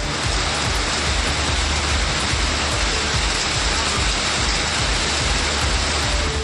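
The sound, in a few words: sudden heavy rain with wind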